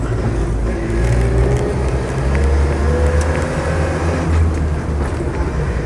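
A Land Rover Series III 88-inch on the road, driving, braking and turning, with a steady engine drone and road rumble that swells slightly at moments, close and continuous.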